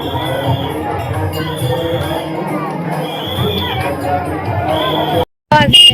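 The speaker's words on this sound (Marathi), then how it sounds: "भरपूर गर्दी आहे." Dense crowd hubbub at a busy temple fair (yatra) for Sant Kurmdas, a steady, close wash of many overlapping voices and chatter with a brief dropout near the end.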